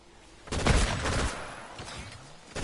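Turret gunfire in Fortnite: a sudden dense volley of rapid shots erupts and rattles on for about a second, then trails into scattered bursts and lingering noise.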